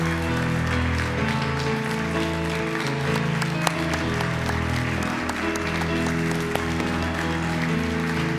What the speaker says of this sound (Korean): 우리 받으실 때까지 큰 박수로 함께 하겠습니다.